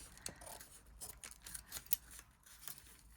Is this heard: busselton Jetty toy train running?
no